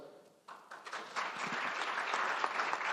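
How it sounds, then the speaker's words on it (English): Audience applause for a panel of speakers at an evening discussion event on the gap year in Israel, starting thin and building after a moment into a steady, dense clapping from a room full of people. "Nobody here knows how to clap, but we'll learn."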